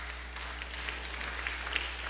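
Church congregation applauding during a sermon, a soft, diffuse wash of clapping with a few sharper claps standing out, fairly faint over a low background hum.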